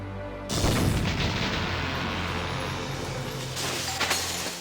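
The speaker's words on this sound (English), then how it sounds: "which seems like a perfect opportunity to throw a grenade at him" A grenade blast in Valkyria Chronicles, a battlefield game, lands as a sudden loud boom followed by a long rumbling, debris-filled roar that stays close and heavy, with a second burst of rumble near the end.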